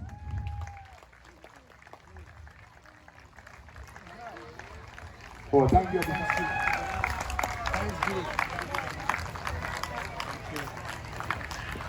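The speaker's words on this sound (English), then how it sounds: "Claps." Audience clapping at an Independence Day celebration held by a community group in Jeddah. A voice speaks first, then from about midway a loud burst of applause and crowd noise swells and carries on steadily to the end.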